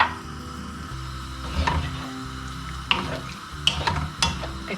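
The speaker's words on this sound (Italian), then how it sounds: "E aggiungiamo anche un pochino di acqua per portare il tutto, per amalgamare il tutto" Water poured into a pan of anchovy sauce for Sicilian pasta con le acciughe, a low running wash with scattered clinks and stirring knocks, no talk.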